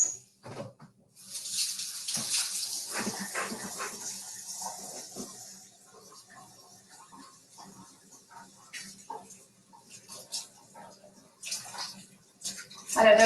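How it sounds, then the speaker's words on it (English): A home kitchen tap runs as hands are washed during pumpkin bar baking: a few seconds of steady splashing water, then quieter clatter and small handling sounds. "Let me wash my hands."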